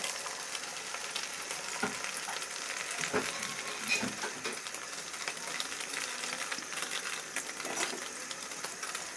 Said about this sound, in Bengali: আমরা ডিমটা এভাবে ভেজে নেব